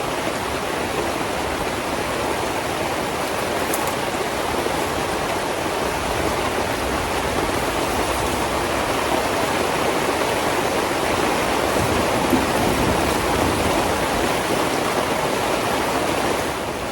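Heavy rain pours on a mountaintop campsite as a dense, steady hiss of water that never lets up. It stays loud and even throughout, with no voices.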